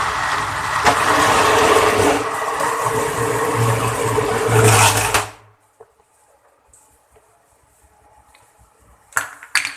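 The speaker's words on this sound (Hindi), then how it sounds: "बकाया हलीम है वो भी हमने ऐड कर दी है, अब इसे भी हम ब्लेंड कर देंगे।" A blender grinds beef haleem, a loud, steady close whir for about five seconds that cuts off abruptly, followed by near silence and a couple of faint clatters.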